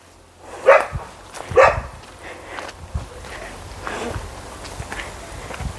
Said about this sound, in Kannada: ಇವು ಬೇಟೆ ನಾಯಿ ಜಾತಿಗೆ ಸೇರಿದಂಥವು